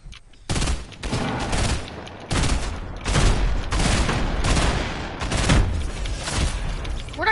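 Video game combat with sustained rapid gunfire and grenade blasts, dense bursts of loud close shots broken by brief gaps, with no clear talking.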